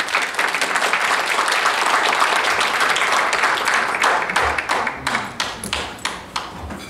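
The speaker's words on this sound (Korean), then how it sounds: "큰 박수로 환영해 주시기 바랍니다." A lecture hall audience claps to welcome a speaker at a CEO economics academy, loud dense applause that thins into scattered separate claps toward the end.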